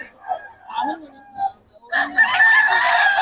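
A young stag rooster crows once at an outdoor fowl gathering, a loud, drawn-out call that rises and holds near the end, preceded by scattered voices and light background activity.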